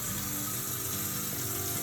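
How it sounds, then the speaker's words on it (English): Tap water runs steadily from a sink faucet into a bowl, a continuous close splashing hiss with no pauses and no voices. "So, tap water out of the sink."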